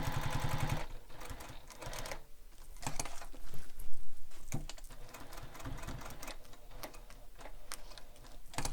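A sewing machine stitches down around the opening of a messenger bag, running in a steady rapid mechanical patter with a few brief pauses and changes in pace, fairly quiet and close.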